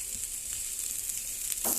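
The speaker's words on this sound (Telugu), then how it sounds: "ఈ ఆనియన్స్ టోటల్గా 10 మినిట్స్ వేగనివ్వాలి" Onions frying in a pan, a soft, steady sizzle at close range with no voices.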